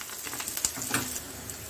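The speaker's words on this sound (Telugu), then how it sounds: "బాగా ఫ్రై అయినాయి కదా ఆనియన్స్." Onions and curry leaves frying steadily in a pan, a continuous close sizzle with scattered small pops and crackles, no talk.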